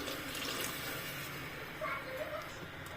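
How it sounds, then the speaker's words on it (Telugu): Water pours steadily into a cooking pot for vegetable biryani, a continuous close-up splashing rush that fills the pot ahead of soaked basmati rice, with no talk over it. "నేను 2 గ్లాస్ రైస్ తీసుకున్నాను కాబట్టి 4 గ్లాస్ వాటర్ వేస్తున్నాను."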